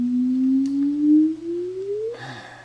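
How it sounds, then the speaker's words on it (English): Simulated gravitational-wave chirp of merging black holes: a single pure tone sweeping steadily upward in pitch for about two seconds, loud and alone, ending abruptly in a brief burst. "Just a comparison signal for what a normal black hole merger sounds like."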